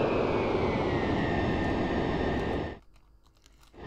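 Jet engine roar from a plane in a Roblox aircraft carrier game, loud and steady, cutting off abruptly near the end and leaving near silence before faintly returning.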